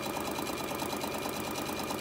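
A sewing machine runs a straight stitch along the top fold of fabric for a mat, a fast, even, continuous whir heard up close with no talk.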